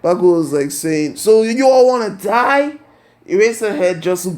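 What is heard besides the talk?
No distinct noise like a dog, phone or traffic.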